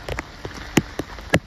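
Rain patters on a nearby surface, with a few distinct heavier drops landing irregularly over a steady wash.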